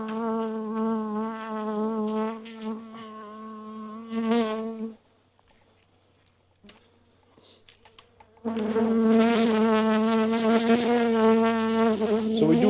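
Honeybees buzz loudly and steadily around open hives in a bee yard, a dense droning hum that cuts out briefly midway before returning at full strength close by.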